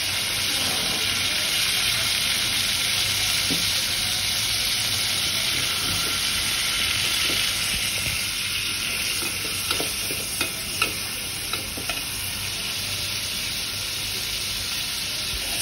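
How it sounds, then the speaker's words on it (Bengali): Shrimp frying and sizzling in hot oil in a pan, a steady loud crackle throughout with occasional stirring clinks near the end, no talking. "চিংড়ি মাছটা গরম তেলে একটু ভাজা ভাজা করব"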